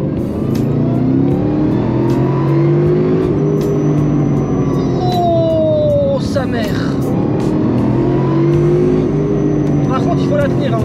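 A Mercedes SLR engine revs up to 3000 rpm, its loud growl rising and falling in pitch with one sharp climb partway through, while someone talks excitedly over it.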